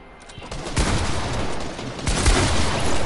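Fortnite gunfire rattles in a loud, rapid burst of shots, with several sharp cracks close together over about three seconds and no voices.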